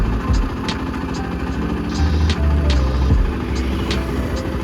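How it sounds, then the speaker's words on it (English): A motorcycle engine with a freshly overhauled CV carburettor runs at a steady idle after cranking, a close, even rumble with faint ticking on top. "Let's try cranking it again."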